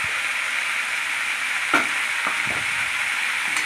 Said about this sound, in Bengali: দিয়ে আবার ভালো করে নাড়াচাড়া করে মিশিয়ে নিলাম